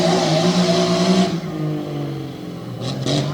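A big red Jeep Grand Cherokee races on a truck course, its engine revving hard and loud, then easing off and rising again with brief tire noise at the end.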